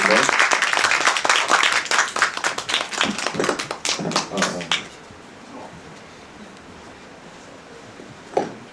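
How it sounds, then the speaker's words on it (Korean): Audience applause at a film screening talk welcoming the director and actors, loud close clapping for about five seconds that fades into quiet room noise. "큰 박수로 모셔주시고 응원해주세요"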